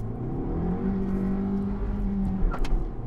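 Suzuki Swift Sport Turbo Hybrid pulling away, its engine humming steadily and rising slightly in pitch, close and continuous throughout with a few brief bumps near the end.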